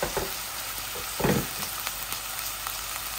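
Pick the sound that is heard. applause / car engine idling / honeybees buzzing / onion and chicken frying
onion and chicken frying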